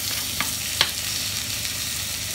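Tomato sautéing in a hot pan with green chilies and small onions for sardine (mathi) masala fry: a steady sizzle, broken by two quick scrapes of stirring.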